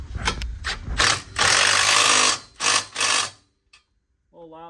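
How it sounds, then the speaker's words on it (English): A ratchet tightens two 15 mm bolts holding an aftermarket bumper to the frame of a 2024 Polaris RZR 1000XP, in several loud, close bursts of rapid clicking with short gaps between them; a brief voice is heard near the end. "Step to the finishing bolting the bumper on, minus putting plastic pieces back on, is tightening these two 15 millimeters down here."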